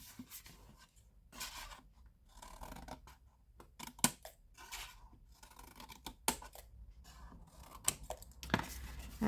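Paper being trimmed with scissors for a Santa pop-up treat box: several crisp snips and scratchy cuts at irregular moments, close by, with gaps of quiet between them.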